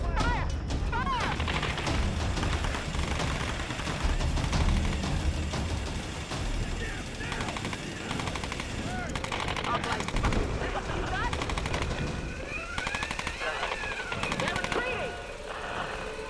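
Bursts of automatic gunfire and single shots crackle through a loud battle in the video game Tomb Raider (2013), with shouted voices, music and clattering action mixed in.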